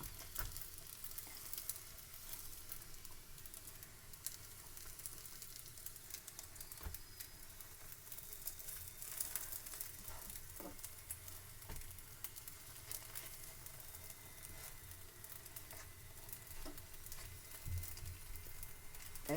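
Sri Lankan chicken and vegetable roti cooks on a flat pan, giving a faint, steady sizzle with occasional soft ticks and pops that runs without pause.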